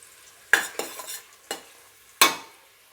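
Onions being stirred and fried in a pan for tomato rice, with four separate scraping stir strokes over a soft sizzle, the last one sharpest, and no talk.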